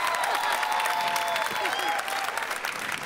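A studio audience applauds for a folk singer guest on a Marathi comedy show, dense continuous clapping close and loud that eases slightly near the end.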